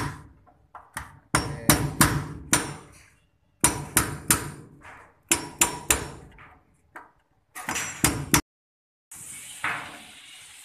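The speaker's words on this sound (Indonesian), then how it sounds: "Dia sedang gepung-gepuk dengan alat yang namanya palu" Hammer blows ring out during work in a lower deck accommodation: close, loud, sharp strikes in bursts of rapid taps separated by short pauses, with no speech.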